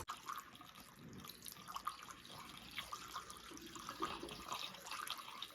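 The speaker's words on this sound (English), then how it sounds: "at least what's in the radiator is coming out" Coolant drains out of the radiator of a Hayabusa 1300 motorcycle in a steady, fairly quiet trickle with small splashes and drips, close by, with no talking.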